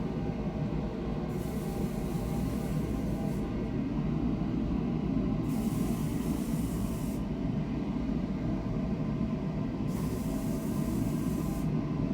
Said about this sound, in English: we will spray the material